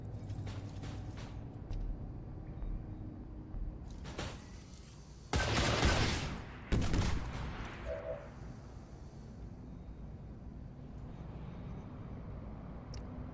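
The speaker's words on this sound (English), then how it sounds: "Yeah, let's flashbang." Flashbang grenade and gunfire in the video game XCOM 2, with a burst of loud blasts and crackling shots in the middle over quiet game ambience and mechanical clicks.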